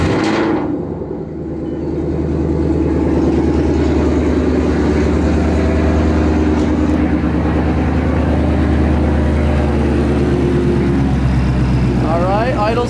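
Supercharged car engine idling steadily and loudly up close, a continuous deep rumble with a faint whine on top, after a brief dip at the start.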